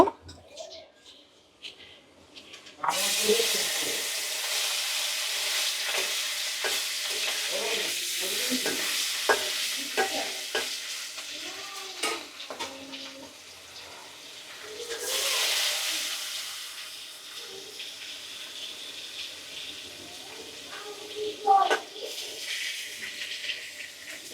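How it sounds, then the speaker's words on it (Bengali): Hilsa fish hits a little hot oil and fries, breaking into a sudden loud sizzle that carries on with sputters and crackles, swells again midway, and is joined by scattered clatter and someone talking. "আমার তেলটা গরম হয়ে গেছে, আমি এখন মাছগুলো দিয়ে দেব"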